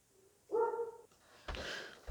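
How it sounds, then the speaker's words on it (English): A dog barks indoors in two short, fairly faint bursts separated by a brief pause, with no talking over it. "and that would be my dog."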